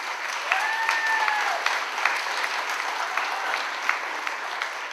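Steady, dense applause fills the room at an opening reception with a Texas barbecue, a crowd clapping continuously at even loudness with a brief whistle early on.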